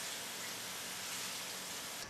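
Water pours steadily over soaked hazelnuts being drained and rinsed, a continuous hissing wash with no pauses or voices.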